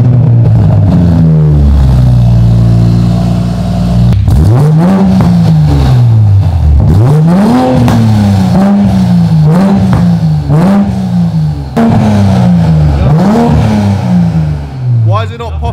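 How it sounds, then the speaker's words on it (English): A modified Toyota Supra built to be extremely loud revs hard in repeated rising, howling pulls close by, its engine dropping back between each blast, with people talking underneath. "we just built the loudest Supra in the UK"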